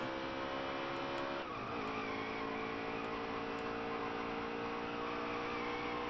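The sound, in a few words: race car blowing a tire and skidding, from video game NASCAR Heat 3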